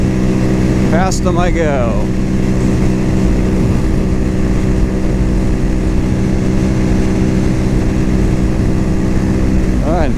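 A Cougar Vitacci XMT 250 engine drones loud and steady while the rider pulls off and cruises, and someone talks briefly over it near the start and again at the end.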